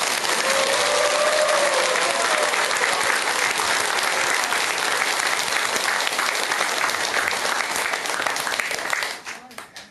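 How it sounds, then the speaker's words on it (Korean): A lecture hall audience at a Korean Buddhist dharma talk bursts into loud, sustained applause that fills nearly ten seconds before cutting off abruptly at the end. "장애가 소멸되었으니 박수를 부탁합니다"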